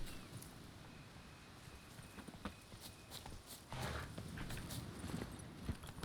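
Hoofbeats of the horse Roach in The Witcher 3, a steady clip-clop rhythm of walking hooves against a low ambient background, moderately close and continuous with no speech.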